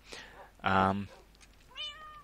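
A Minecraft cat meows a few times on a farm: a short cry near the start, a louder drawn-out meow in the middle, then a softer rising mew toward the end, heard fairly close against quiet background.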